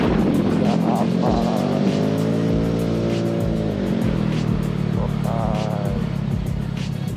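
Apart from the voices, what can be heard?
Vespa Sprint scooter riding and overtaking in traffic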